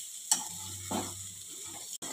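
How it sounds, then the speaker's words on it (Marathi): Sliced ridge gourd sautéing in a hot oil tempering for a village-style Maharashtrian bhaji: a soft, steady sizzle with a low hum, broken by a few light clicks and scrapes. "आता या फोडणीत आपण ही कापलेली दोडकी घालूया. दोडकी घालून आपल्याला छान असे परतून घ्यायचे आहेत."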